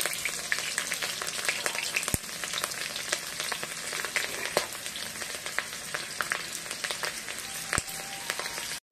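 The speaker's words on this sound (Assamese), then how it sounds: "এতিয়া আমি কেঁচা জলকীয়া তেজপাতটো দি দিছো" Green chillies and a bay leaf dropped into hot mustard oil in a kadai, crackling and sizzling densely and steadily with sharp pops scattered throughout, close and fairly loud.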